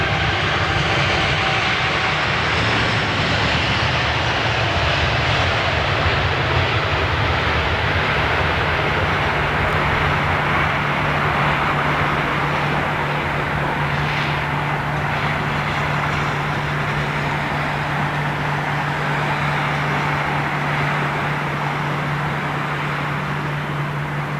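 A Qatar Boeing 777 roars past with its jet engines, a loud, broad, continuous rumble and hiss that holds steady for the whole stretch, heard outdoors with no talking.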